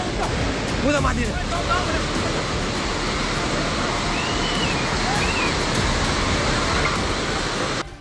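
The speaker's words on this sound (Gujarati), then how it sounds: "જેવો પાણીની ગર્જના સંભળાય છે, પાણી આવતું દેખાય છે" A loud, continuous roar of rushing floodwater in Nepal fills the scene, broad and steady throughout, with faint higher whistling tones drifting over it.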